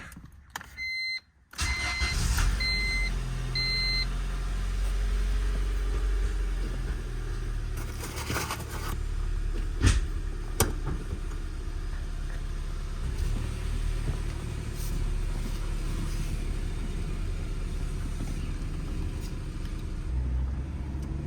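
A B16-swapped 1996 Honda Civic EK hatchback is driven, its engine a steady, close mid-pitched drone inside the cabin. A few short beeps sound at the start and faint clunks come now and then.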